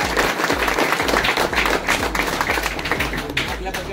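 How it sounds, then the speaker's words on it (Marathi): A crowd in a chawl gathering clapping to welcome guests, brisk rhythmic applause with regular thumping beats running throughout, close and loud, with voices mixed in. "सर्वांनी टाळ्या वाजवून त्यांचं स्वागत केलं"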